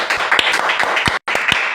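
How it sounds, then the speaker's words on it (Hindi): A church audience claps during a testimony, a short burst of brisk, scattered applause with a brief break near the end. "जोरदार तालियां यीशु के लिए"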